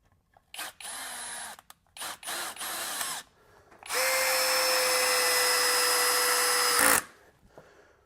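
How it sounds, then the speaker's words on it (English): A SKIL 12V MultiHead drill driver driving a deck screw, with short whirring bursts followed by one sustained high-pitched motor run of about three seconds, close and loud, then stopping. "Now let's go to the MultiHead Driver, and I'm just going to use it right there out of the gate."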